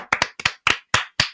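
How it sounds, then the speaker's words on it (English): Six sharp, close hand claps come in quick pairs and singles with silence between them, a small round of applause on a cricket podcast. "Let's have a round of applause for that."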